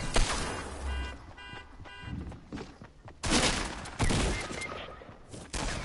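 Video game gunfire sprayed in rapid bursts, loud cracking volleys stopping and starting across the clip with no talk.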